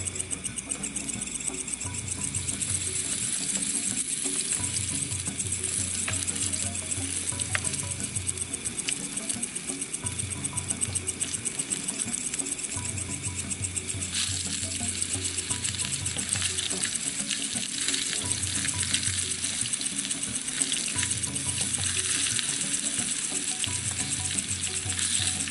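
Banana stem fritters frying in hot oil, a continuous close sizzle with occasional stirring and a running water tap in the background, no voices.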